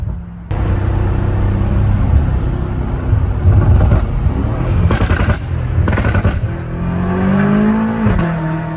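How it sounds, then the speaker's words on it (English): A Dodge Hellcat roars close and loud, accelerating hard with bursts of rapid popping and crackling, then revving up in a rising whine before cutting off. "Yo, that Hellcat goes crazy, though."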